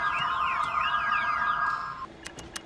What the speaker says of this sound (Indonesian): tiba-tiba semua alarm mobil di blok tersebut berbunyi serentak